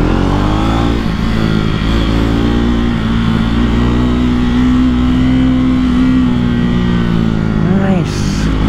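A 2024 Triumph Speed 400 motorcycle pulling away from low RPM: a loud, close engine drone rising steadily in pitch as it accelerates, heard under someone talking.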